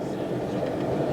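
Amtrak X2000 demonstrator train rolling along the rails, a steady low rumble and hiss that stays even and continuous throughout, close and fairly loud with no distinct clacks standing out.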